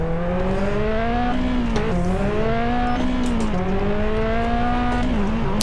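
A McLaren P1 in the racing game Test Drive Unlimited 2 revs loud and steady in first gear, its engine note climbing and dipping in waves while the wheels spin, with no one talking.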